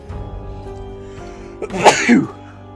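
A single sharp sneeze, close and loud, preceded by a brief inhale, bursting with a breathy, noisy release and a short voiced tail, heard alone without talk.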